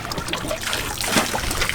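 Water from an outdoor shower on a sailboat trickles and spatters in a thin, continuous stream, close and fairly loud, with small splashes and no talking.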